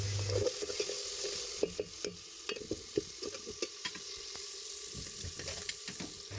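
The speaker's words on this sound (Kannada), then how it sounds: "ಟೊಮೆಟೊ ಸ್ವಲ್ಪ ಬೇಯಲಿ." Tomato cooking in a pan for a raw jackfruit stir-fry, heard as a steady close sizzle of frying with scattered sharp clicks of stirring against the pan, no talking.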